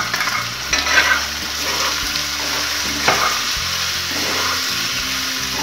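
Potatoes fry in an oiled pan with spices, a continuous close sizzle broken by a few scraping stirs of a spoon against the pan, no talking.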